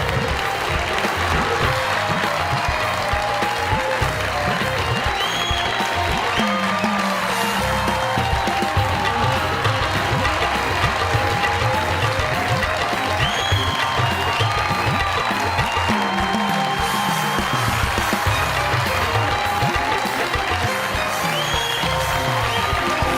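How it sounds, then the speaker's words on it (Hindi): A studio audience at a comedy show gives a standing ovation, with sustained dense applause that runs unbroken and loud throughout, joined by faint crowd cheering. "खड़े होकर ताली बजाइए, जोरदार तालियां।"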